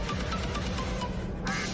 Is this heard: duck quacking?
yes